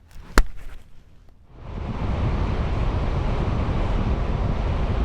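A Zero DSR/X electric motorcycle is ridden on a winter day, with a brief knock and then a steady loud rush of wind and road noise that builds and holds, without engine tones or talking.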